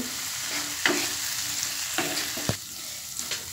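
Potatoes coated in chili powder and turmeric are stirred in a pan over a low sizzle, with several sharp scrapes and knocks of the spoon against the pan.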